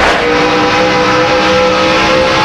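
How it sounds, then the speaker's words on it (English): NASCAR stock cars roar around the track during the 2002 Southern 500, a steady, loud, dense engine drone that fills the whole stretch with no pauses. "We can listen to, and we see the 9-car Bill Elliott just goes by Jeff Gordon."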